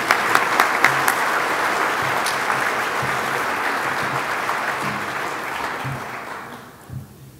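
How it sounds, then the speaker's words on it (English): Luncheon attendees at a general session give a sustained round of applause, dense even clapping that holds steady before tapering off near the end. "let's give him a big round of applause for all that he's done for the local government community"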